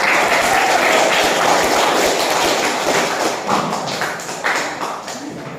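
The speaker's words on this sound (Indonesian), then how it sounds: "Beri tepuk tangan." Students in a classroom applauding at the end of a lesson, a loud, dense burst of clapping mixed with thumps and taps, sustained and slowly thinning out toward the end.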